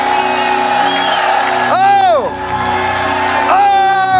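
A church congregation lets out loud rising shouts and whoops of celebration, with cheering voices massed near and a second swell of shouting near the end.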